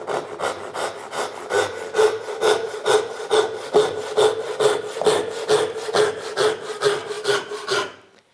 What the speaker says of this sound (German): Wir gucken uns das jetzt nochmal natürlich mit einer etwas größeren Säge an.